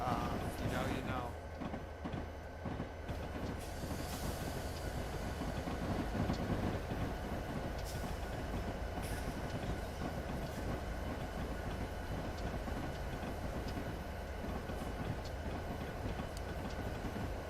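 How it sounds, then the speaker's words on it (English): Two Alco RS3 diesel locomotives haul a short coal train in Train Simulator Classic, with a steady engine drone and continuous rail rumble throughout, and a voice talking over the top. "I don't know why you need 2 to haul a short coal train, but hey, it works."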